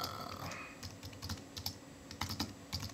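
Someone types a street address on a computer keyboard, producing quiet, irregular keystroke taps at close range over a faint background.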